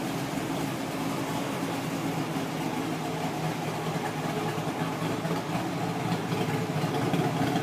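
A 2011 Chevrolet Camaro engine idling steadily with a smooth, low hum, continuous and even throughout, close by with no talking.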